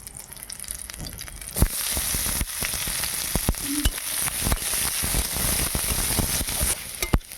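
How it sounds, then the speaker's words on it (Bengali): Onions sizzle and crackle steadily in hot oil, with sharp clinks and scraping of a utensil stirring the pan now and then. "পেঁয়াজটা ভাজা হয়ে গেছে।"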